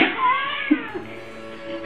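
A cat gives a short, close meow followed by a softer chirping sound in a quiet room.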